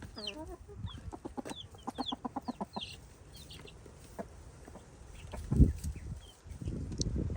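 Chickens in a backyard flock cluck in quick rhythmic runs, near and fairly loud, then quieter scattered clucks follow, ending with a few louder bumps and rustles.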